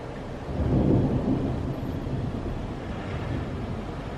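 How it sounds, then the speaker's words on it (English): Morning thunder rolls in as a deep, sustained rumble that swells early and then lingers steadily for several seconds, with no voices present. "Morning thunder is just weird."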